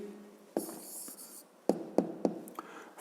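A pen writes an answer by hand on paper in a quiet room, with a short scratch followed by several crisp taps and strokes in quick succession, close and soft.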